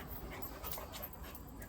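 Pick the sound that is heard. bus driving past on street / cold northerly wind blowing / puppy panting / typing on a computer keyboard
puppy panting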